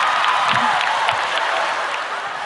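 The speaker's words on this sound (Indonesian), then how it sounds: "Ha, tengok, perempuan aja yang tepuk tangan." A live comedy audience in which mostly women are clapping, a steady dense patter of applause close by with light scattered crowd noise and a faint voice, sustained evenly throughout.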